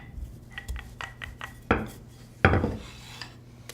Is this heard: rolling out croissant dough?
yes